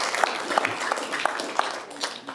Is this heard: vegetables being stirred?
no